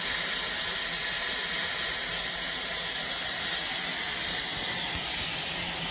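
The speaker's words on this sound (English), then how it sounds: "See how much steam is coming out now?" A steam shower generator releases a steady, loud hiss of steam that pours out continuously without a break, bright and rushing throughout.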